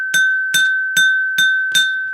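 A struck glass rings with a bright, sustained ding, tapped five times at a steady pace, each hit leaving a long clear tone hanging between strikes.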